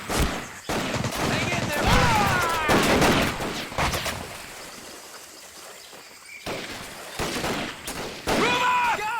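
Gunfire in the video game Medal of Honor: Pacific Assault comes as loud, irregular bursts of shots mixed with shouted battlefield voices, footsteps and crashing impacts.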